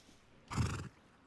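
Horse in the survival video game Rust, a single short neigh, faint and close, standing out briefly from a quiet background.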